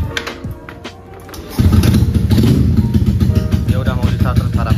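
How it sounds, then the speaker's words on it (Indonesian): A Honda Beat ESP 150cc motorcycle on a dyno cranks and then fires up, settling into a loud, close, rough idle after a brief cranking sound, with a person speaking. "Dia udah mau di starter sekarang."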